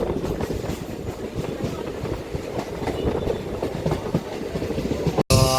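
An MMTS local train runs between Lingampalli and Medchal, its wheels rumbling and clattering steadily over the rails from close by inside the coach, with a brief dropout near the end.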